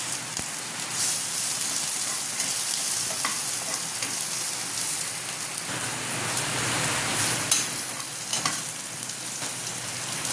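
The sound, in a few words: garlic and onion frying in oil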